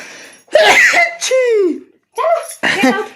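Someone sneezes close by, with a short burst of sharp bursts and vocal sounds, mixed with bits of talk.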